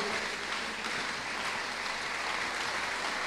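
A church congregation applauds steadily, a dense, even wash of clapping that holds at moderate loudness throughout, with no clear speech on top.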